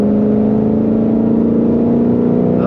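A supercharged Mustang Shelby GT500 launches hard, its engine holding a loud, steady, close drone with supercharger whine throughout the short pull, and no voices.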